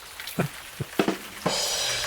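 Rain falling, first as scattered separate drops pattering on a surface, then as a steady, close hiss of rainfall that carries on to the end, with no voices.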